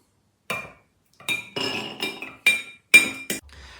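Hawthorn berries drop into a three-liter glass jar holding a cinnamon stick, giving a series of sharp, close clinks and taps in irregular bursts separated by brief silences.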